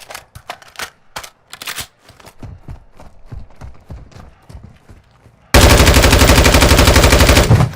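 Armor-piercing rounds fire in Call of Duty DMZ: scattered single and burst shots and impacts, then a loud sustained rapid automatic stream near the end.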